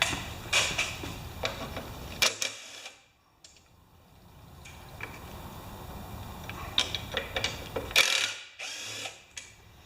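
Ratchet wrench clicking in short bursts while loosening carburetor bolts on a lawn mower, a worn 5/16 socket in use; close, intermittent ratcheting with brief pauses and quiet gaps.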